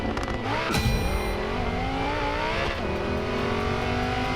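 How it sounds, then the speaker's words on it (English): A stock Lamborghini Gallardo in the Racing Master video game pulls away, its engine revving and climbing through gears with a loud, steady drone and a brief tire squeal near the start. "this is a bone stock Gallardo, and look how sluggish the start is"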